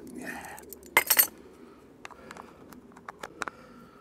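A metal teaspoon clinks sharply a few times against a bowl or jar as an ingredient goes into a cucumber dill relish, followed by small scattered taps and clicks close by in a quiet kitchen.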